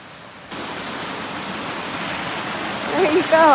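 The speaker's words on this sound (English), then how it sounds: "A waterfall right behind the campsite." A waterfall behind a wilderness campsite in Temagami roars as a steady broadband rush that swells in after a quiet start and stays loud, with faint whistling or voices near the end.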